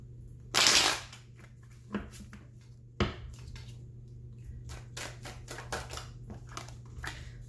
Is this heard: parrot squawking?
no